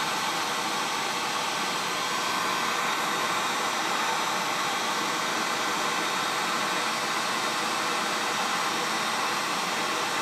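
A hot air rework tool blows on a phone charging port board, a steady, loud hissing rush of air that holds unchanged throughout without talk.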